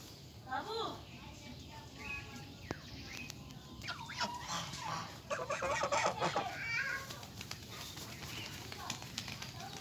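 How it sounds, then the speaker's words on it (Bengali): Geese (raj-hansh) brought from Netrokona calling in a yard, honking and clucking cries rising at intervals amid other fowl and a dog, with someone talking throughout. "এই হাঁসগুলো আমি নিয়ে আসছিলাম নেত্রকোনা থেকে"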